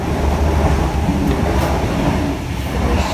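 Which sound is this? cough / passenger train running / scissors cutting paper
passenger train running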